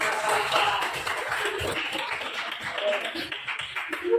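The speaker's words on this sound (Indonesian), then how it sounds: "tepuk tangan dulu untuk kelas" A classroom of students claps their hands together in a steady, busy patter of overlapping claps with voices mixed in.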